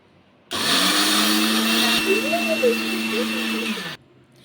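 A kitchen mixer grinder whirs as it grinds poha (flattened rice) into coarse flour, a loud steady motor whine starting abruptly, holding for about three and a half seconds with a brief pitch wobble, then cutting off.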